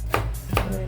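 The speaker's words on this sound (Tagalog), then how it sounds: "Maghiwa lang ko ng pinong-pino yung sibuyas." A knife finely chops onion on a board while a kilawin dish is being prepared, giving two crisp, close chopping strokes about half a second apart.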